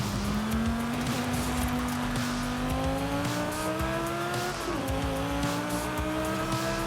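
Car engine in the racing video game Forza Horizon 5, a steady high-revving drone that climbs in pitch, dips briefly at a gear change and climbs again, loud and continuous with no talk.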